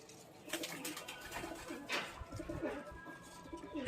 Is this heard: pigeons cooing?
yes